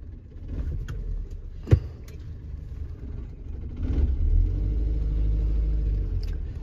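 A car driving on a road near Loni, Ghaziabad, heard as a steady low engine rumble from inside, with a sharp knock partway through and the drone swelling louder toward the end.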